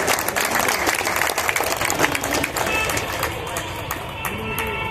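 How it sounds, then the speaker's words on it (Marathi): A crowd claps loudly and steadily for a fine arts college student at an art exhibition prize-giving in Solapur, with a voice talking over the dense applause. "जोरदार टाळ्या झाल्या पाहिजेत यांच्यासाठी."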